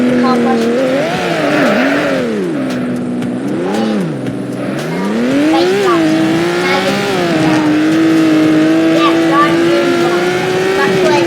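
Ferrari engine in the video game Car Crushers 2, a loud revving whine that rises and falls, then holds a steady high pitch with hints of tire squeal.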